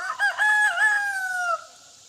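A rooster on a farm gives one full crow, loud and near, rising then trailing off over about a second and a half, alone with no talk.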